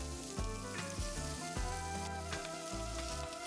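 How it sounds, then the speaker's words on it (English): Chopped bacon rendering in a pot with a little olive oil, giving a dense, steady sizzle and crackle that runs continuously at close range, with a few soft bumps of stirring. "And then I'm gonna go ahead and put the bacon in and go ahead and render it."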